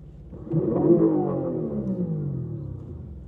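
Synthetic acceleration sound from the speakers of a Honda Zero prototype EV, a loud, rising engine-like rumble and whir that swells up and holds steady for a few seconds with no talk over it.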